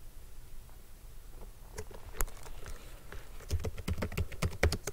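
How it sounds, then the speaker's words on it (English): Quiet typing on a computer keyboard, sparse at first and then a quicker run of distinct key clicks toward the end, close and alone. "I'll type that in."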